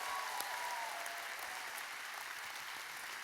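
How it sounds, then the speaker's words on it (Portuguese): Church congregation applauding together, a steady dense wash of clapping that holds evenly throughout with no voices over it. "Quem pode dar esse aplauso bem bonito para Jesus mesmo?"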